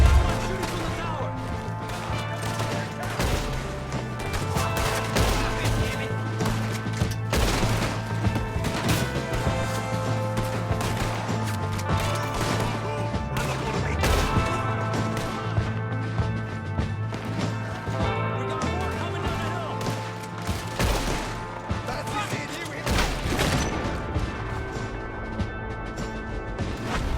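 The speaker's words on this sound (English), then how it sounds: "Someone shooting from the tower!" Gunfire and crashing impacts in a Red Dead Redemption 2 firefight, with someone shooting from a tower, rattle densely and loudly for the whole stretch over a steady low rumble, with voices shouting beneath.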